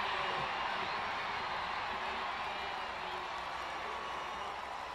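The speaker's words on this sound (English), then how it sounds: "Crowd noise lifts." Dense stadium crowd roar at a London 2012 Paralympic athletics race, a broad, steady wash of distant cheering that holds loud and constant throughout, with scattered voices blended in.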